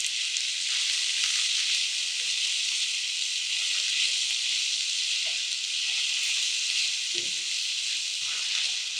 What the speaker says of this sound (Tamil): பீர்க்கங்காய் வதக்கும்.